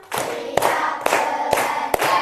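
A class claps together in a counted pattern, five sharp unison claps spaced about half a second apart, each followed by a brief burst of scattered clapping between them, loud and close.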